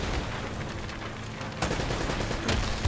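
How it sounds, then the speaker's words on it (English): A rocket launcher fires in Uncharted: Drake's Fortune, giving sharp blasts near the middle and again toward the end over a continuous bed of game noise. "Oh! Rocket launcher."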